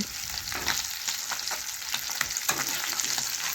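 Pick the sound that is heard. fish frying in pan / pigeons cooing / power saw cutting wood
fish frying in pan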